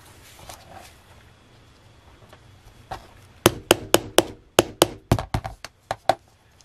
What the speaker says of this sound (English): you just pound until you go through all your layers